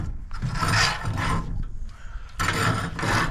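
Magnets and a welding ground clamp are pulled off steel horseshoes in a metal shop. Several close bursts of scraping and clanking metal are separated by brief pauses, with no talk.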